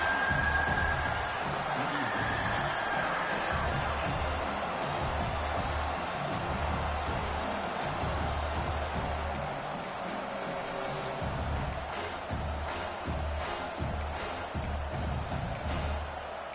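Stadium crowd in the NCAA 26 college football video game, Michigan versus South Carolina, roars in a steady, dense wash of cheering for the whole stretch, loud and continuous with faint whoops rising out of the noise.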